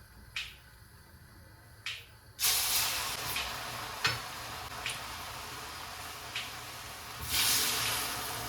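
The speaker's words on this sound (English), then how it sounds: "We're just going to deep fry." Sweet plantain deep frying in hot oil in a Kenyan home kitchen, a steady broadband sizzle that jumps louder partway through as pieces go in, with a few sharp pops and crackles, no talking.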